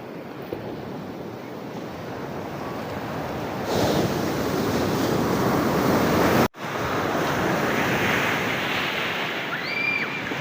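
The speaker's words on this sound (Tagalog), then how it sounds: "Ang lakas ng alon." Strong ocean waves surge and crash steadily, a broad roaring wash with gusty wind noise and a brief dropout partway through.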